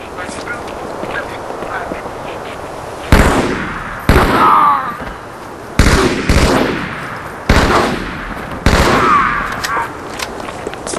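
Gunfire in the Halo 2 video game comes in several sharp, loud bursts spaced a second or two apart, each decaying quickly, over a steady background hum with faint talk between shots.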